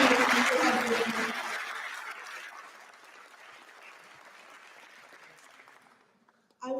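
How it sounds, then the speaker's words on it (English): Audience applause after musicians' performance at an Arangetram dance debut, a broad burst of clapping that starts full with some voices mixed in, then thins and fades to near silence. "Let's give them another round of applause to show our appreciation for the exceptional experience they have witnessed."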